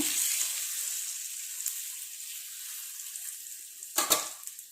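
Tikka fries in a pan on a gas stove at full flame, giving a steady, bright sizzle that fades slightly, then crackles more sharply in a short burst near the end. No voices are heard.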